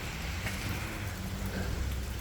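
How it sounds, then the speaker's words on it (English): Steady rain falls outside a home garage in summer, a continuous even hiss of drops on surfaces with no voices over it. "started raining"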